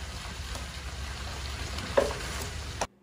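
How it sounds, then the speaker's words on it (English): A mud mixer paddle churns drywall joint compound in a bucket, a steady whirring, sloshing drone with one sharp knock near the end before it cuts off abruptly. "Mix it up with my mud mixer"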